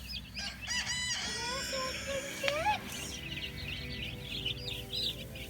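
Freedom Ranger chicks at one week old chirping in a brooder, a few high rising peeps and short calls scattered over a steady background hum, fairly faint.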